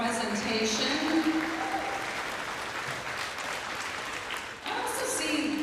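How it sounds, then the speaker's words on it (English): Audience applause for a presentation at an Anishinaabe Nation gathering in Treaty 2 Territory, sustained and fairly even clapping from a crowd across the whole stretch, with a brief dip near the end before it picks up again. "Let's give her a big round for her presentation."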